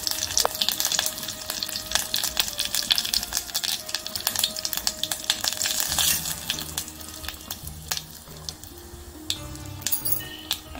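Mustard seeds, cumin and curry leaves crackle and sizzle in hot oil for a Maharashtrian festival thali, a steady close frying hiss dotted with sharp pops and a few light metallic clinks, no voices.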